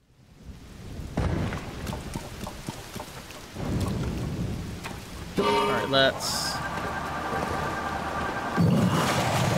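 Heavy rain and rolling thunder in the Faron Jungle of Zelda: Tears of the Kingdom, loud thunderclaps and crackling bursts over steady downpour, with someone briefly talking.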